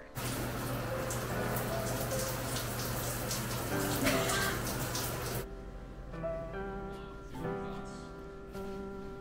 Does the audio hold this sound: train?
no